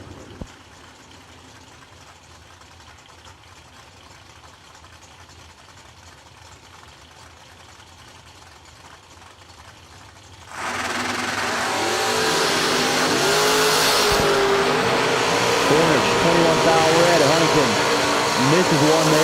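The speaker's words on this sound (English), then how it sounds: "Derek Cornish and Bill Huntington. Back up from their burnouts right now" Drag race launch of a Corvette Roadster and a Fox Body Mustang: quiet crowd ambience gives way to a sudden loud, sustained roar of both engines accelerating hard down the strip, with a crowd or announcer faintly under it.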